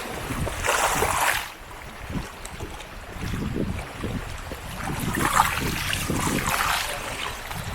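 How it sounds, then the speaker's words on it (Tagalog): River waves splash and slosh against a bamboo raft in bursts, with gusting wind buffeting the microphone, loud and close. "Ito medyo malakas-lakas tong alon na ito"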